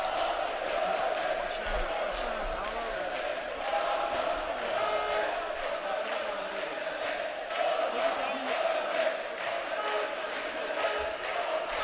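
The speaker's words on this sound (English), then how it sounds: "Starting to get loud in here as the fans are starting to fill out the arena somewhat and cheer their boxers on." Crowd of boxing fans in an arena at a light heavyweight amateur bout, a steady roar of cheering and shouting that swells at moments and continues for the whole stretch, with a commentator's voice faintly beneath it.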